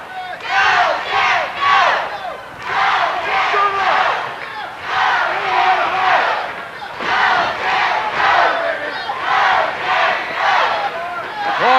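A wrestling arena crowd roars and chants in rhythmic surges, loud and close, with cheers rising and falling in repeated waves.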